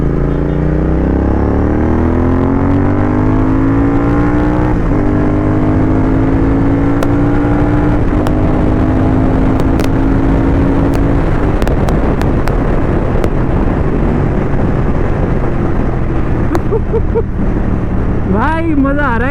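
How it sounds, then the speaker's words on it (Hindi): A Royal Enfield GT650 motorcycle fitted with an Offtrails Moto S1 Pro exhaust pulls hard through rising revs and gear changes, loud and close with heavy wind buffeting, then settles into a steady drone. "मज़ा आ रहा है इन एग्जॉस्ट के साथ बाइक भगाने में, क्योंकि लाउड है ना"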